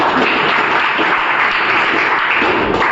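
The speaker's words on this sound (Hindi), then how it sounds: "उसके लिए ताली हो जाए" A class audience bursts into loud, dense applause, a continuous rush of many hands clapping at close range, heard alone without talk.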